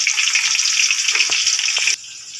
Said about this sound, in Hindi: कुकिंग ऑयल डालने के बाद हम फिर डालेंगे इसमें आधा किलो प्याज।